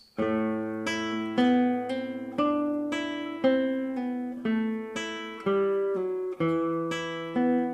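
A classical guitar plays a steady passage from Granadinas of plucked arpeggiated notes over a low bass line, close and clear, each note ringing into the next.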